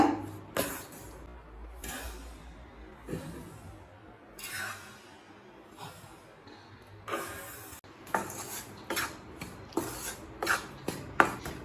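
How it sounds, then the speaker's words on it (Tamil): Wheat being dry-roasted in a pan over a medium flame, heard as quiet scraping and rustling of a spatula stirring the grains, with intermittent sharper clinks against the pan. "மீடியம் ஃப்ளேம்லேயே வச்சுட்டு நல்ல வாசனை வர வரைக்கும் வறுத்துக்கோங்க"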